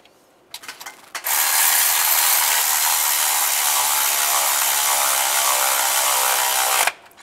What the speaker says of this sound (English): Put the belt tensioner on, line that up, and tighten the bolts down.